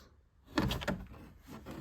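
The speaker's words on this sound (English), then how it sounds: "you can really just put your hand on the bottom in the middle and the whole panel just slides right up" The interior door panel of a 1995 Mustang slides up and off the door, giving a few soft scraping and plastic rattling sounds that are quiet and brief.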